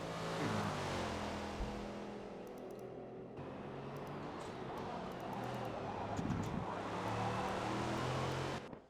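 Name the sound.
GT3 race cars accelerating out of the Hockenheim hairpin, from a video game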